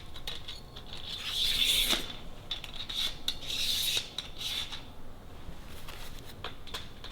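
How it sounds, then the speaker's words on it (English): Bolts slid along an aluminium awning extrusion make a close metallic scraping and rasping, heard in two longer strokes followed by shorter rubs and small clicks, with no talk. "we're going to slide bolts over to those spots"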